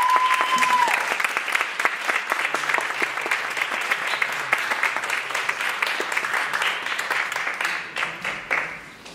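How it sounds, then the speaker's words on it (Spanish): A theatre audience at a film screening and discussion event claps steadily, a dense wash of applause that tapers toward the end. "Un aplauso para Laura Uria"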